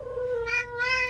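A cat meows twice in The Boiled One video game, two short rising-and-falling calls close together, clear and close with no talking.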